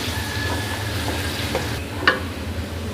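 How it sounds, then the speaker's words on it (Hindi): Steady sizzling of onions frying in a pan, with a few soft scraping stirs and one sharper clink, continuous and close. "प्याज को हम उस वक्त तक फ्राई करेंगे जब तक इसका अच्छा सा कलर ना आ जाए"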